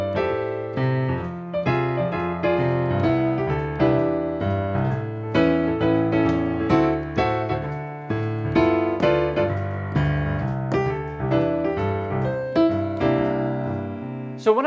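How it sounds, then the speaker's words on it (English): Jazz piano with a steady walking bass line in the left hand beneath right-hand block chords, played solo with even, swinging rhythm and close, clear tone. "I'm basically walking a bass line on each of my chords, and then in my right hand, I'm grabbing some chord tones"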